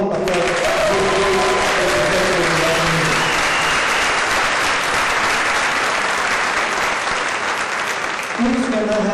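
Loud, sustained audience applause at a Hispanic awards ceremony, dense clapping throughout with some voices and cheers mixed in beneath.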